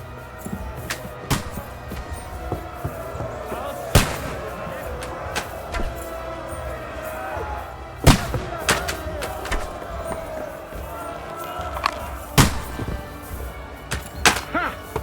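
Gunshots in the video game Kingdom Come: Deliverance 2: several sharp, scattered bangs go off one at a time over steady game ambience, while excited shouting voices carry on throughout.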